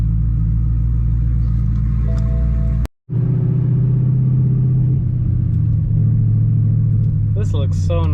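A yellow BMW E92 rumbles steadily while cruising, with a loud, continuous low drone and a brief dropout near the three-second mark; people talk over it.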